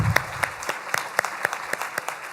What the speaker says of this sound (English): Let's clap for all of our panelists